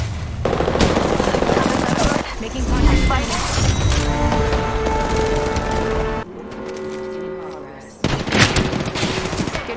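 Heavy gunfire in the battle-royale video game Apex Legends, with loud rapid bursts and sustained automatic fire, brief pauses between volleys, and game sounds and chatter around them.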